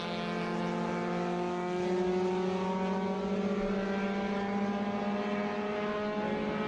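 Vintage race cars, an MG Midget among them, race at Watkins Glen in an SVRA Group 1 feature, their engines giving a steady, loud droning whine that rises slightly in pitch throughout.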